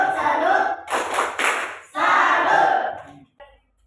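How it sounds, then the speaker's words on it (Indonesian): Schoolchildren in an Indonesian classroom giving a rhythmic clap-and-cheer salute, loud bursts of group clapping and shouting in two waves with a short gap between, then fading into near silence. "Kita beri tepuk salut."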